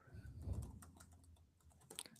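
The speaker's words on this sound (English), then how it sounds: "You can't just look him up by typing in Holtz, so you got to type in the full name." Keystrokes on a computer keyboard, typing a name into a search during a hockey trade deadline live stream, a quick run of clicks followed by a pause and a short final burst.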